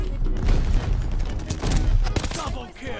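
STG assault rifle in the video game Call of Duty Vanguard, dense rapid bursts of automatic gunfire crackling close and loud throughout, with overlapping shots and impacts in a busy multiplayer firefight.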